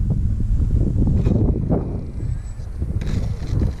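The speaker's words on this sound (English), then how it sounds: "wind's fierce today" Strong outdoor wind at a model airfield, heavy low buffeting rumble on the microphone throughout, with faint background sounds breaking through in places.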